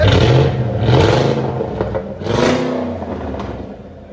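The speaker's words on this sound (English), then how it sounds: "Let it idle. That's the idle." Supercharged 5.4L V8 of a 2007 Saleen S331 with an H-pipe delete runs at idle, a loud, steady low rumble with a throaty uneven burble and slight swells throughout, no talking over it.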